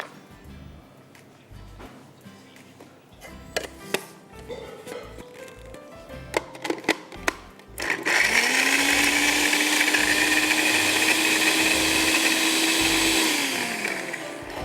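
An electric chopper grinds green chillies and a piece of ginger into paste, starting abruptly midway as a loud, steady whirring roar that runs for several seconds and then winds down. Scattered clicks and handling knocks come before it.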